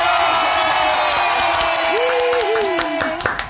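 A podcast studio crowd cheers and claps loudly and continuously, with a whoop and a sustained shout rising over the noise.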